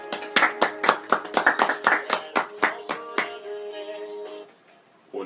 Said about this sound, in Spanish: Por favor, un aplauso al querido Brian.